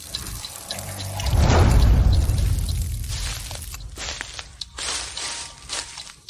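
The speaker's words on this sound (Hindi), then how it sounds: "सॉरी, पानी का पाइप खराब हो गया है, मैं अभी ठीक करता हूँ।" Water rushing from a broken water pipe indoors, a sudden loud gush that surges then settles into uneven splashing and trickling, with no talking.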